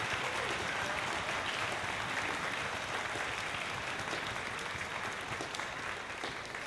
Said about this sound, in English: we just want to give a big round of applause to Mr. Rodriguez